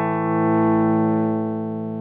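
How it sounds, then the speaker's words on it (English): A guitar run through a Joyo AC Tone overdrive pedal modelled on a VOX AC30 amp, with the drive wound up for a gnarly tone: one sustained, distorted chord ringing out loudly and evenly before slowly fading slightly. "I think you can get a very nasty, gnarly overdriven sound."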